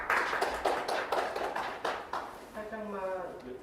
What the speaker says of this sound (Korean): 박수로 축하 부탁드리겠습니다